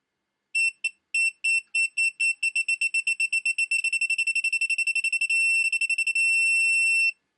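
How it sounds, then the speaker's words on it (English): A GOYOJO 3/8-inch drive digital torque wrench beeps, sparse at first then quickening into rapid pulses as it nears set torque, ending in one long steady tone at torque; high-pitched and clear, no voices. "it starts to beep when you get close to the torque, and then it has a solid beep when you hit the torque."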